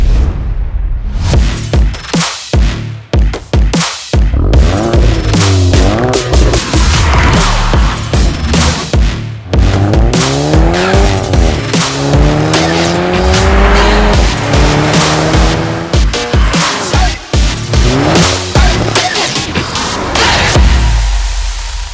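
A 2023 Volkswagen GTI drives hard with loud, repeated tire squeals and skids over a steady engine roar, rising and falling through several bursts for most of the run, with no one speaking.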